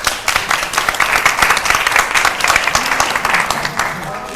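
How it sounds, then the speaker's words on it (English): An audience at a school board meeting breaks into applause, a lively wash of clapping with some nearby voices and cheers mixed in underneath. "Team, let's give her a round of applause."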